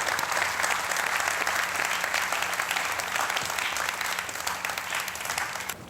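Studio audience at a Hindi game show semifinal breaking into sustained applause, a dense, even wash of many hands clapping at once, held steady for several seconds at moderate volume with no talk over it.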